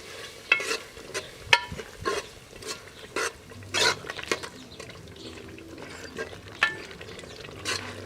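Ekuru ingredients stirred into a stew in a pot, a series of separate spoon scrapes and clinks over a faint simmer, with no talk.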